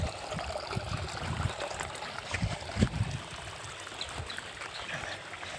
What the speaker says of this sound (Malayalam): വെള്ളമൊക്കെ ഇതാ ഒഴുകി പോകുന്നുണ്ട്